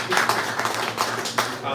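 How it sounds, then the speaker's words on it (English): Brief applause for the women at an Atlanta Black Chamber gathering, scattered crisp claps from a modest crowd, with talking mixed in. "Round of applause for our ladies"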